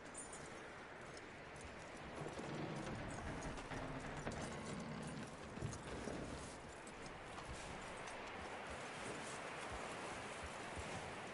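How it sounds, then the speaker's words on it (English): Horse hooves in Red Dead Redemption 2, a steady muffled clip-clop rhythm beneath soft rustling ambience, fairly faint and continuous throughout. "That looks like a decent horse."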